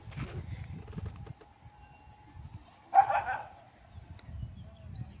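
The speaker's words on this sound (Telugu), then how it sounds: "ఇగో ఈ పక్క గల్లీలో ఇగో ఈ రోడ్లో అయితే తిరుగుతున్నాయి చూడండి కుక్కలు" Dogs roaming a neighborhood side lane and road, with a brief burst of barking near the middle standing out over low background rumble and faint street ambience.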